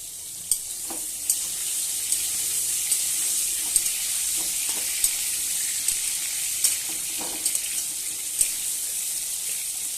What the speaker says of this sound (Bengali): আমি এইভাবেই একটু ভালো করে ভেজে নেব।